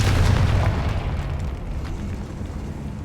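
A Confringo fire spell exploding in the video game Hogwarts Legacy, heard as one heavy, booming blast at the start that rolls and fades into a long, rumbling decay with no talking.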